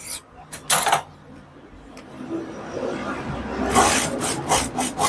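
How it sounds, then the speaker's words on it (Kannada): Scissors cutting blouse fabric in a straight line, a few sharp snips and rasping slices close by, with quieter rubbing and handling of cloth between cuts. "ಫಸ್ಟ್ ಇದನ್ನ ಸ್ಟ್ರೈಟ್ ಆಗಿ ಕಟ್ ಮಾಡ್ಕೊಂಡ್ಬಿಡೋಣ."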